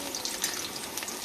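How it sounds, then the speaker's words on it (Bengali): Sweet pumpkin fries in a pan, a soft, brief, continuous sizzle heard faintly and alone. "আর এদিকে মিষ্টি কুমড়োটা ভেজে নিচ্ছি।"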